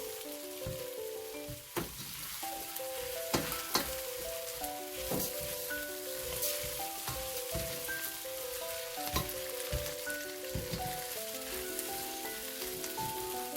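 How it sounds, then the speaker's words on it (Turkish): Bulgur sizzles steadily as it is sautéed in a pan for a vegetable and tomato bulgur pilaf, a close, continuous frying crackle with occasional stirring clicks and soft background music. "Bir iki dakika bulgurla da kavurduktan sonra"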